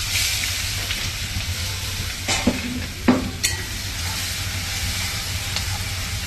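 Ground masala paste drops into hot oil seasoned with asafoetida and turmeric, giving a steady close sizzle with a couple of spoon scrapes and stirring clinks, no speech.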